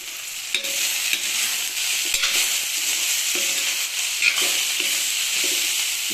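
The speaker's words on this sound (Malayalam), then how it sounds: "മൂടി തുറന്നിട്ട് ഇടയ്ക്കൊന്ന് ഇളക്കി കൊടുക്കണം കേട്ടോ" Potato fry cooking in an open pan, a steady sizzle broken by repeated scraping strokes of a spoon stirring the potatoes at a regular rhythm, close and fairly loud, without talk.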